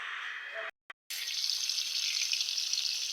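Jatka, young hilsa fish, frying in hot oil, a steady loud hiss that cuts out briefly and then returns stronger and continues without a break.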